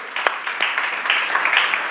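A church congregation applauding those about to be baptized, a brief burst of steady clapping that swells slightly, with no talk over it.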